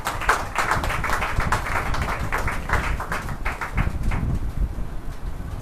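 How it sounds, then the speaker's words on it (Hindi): Dense clapping from a church congregation during a service, a steady crowd-wide patter of claps sustained throughout at moderate loudness with no voices. "आइए जोरदार तालियां परमेश्वर के दास को"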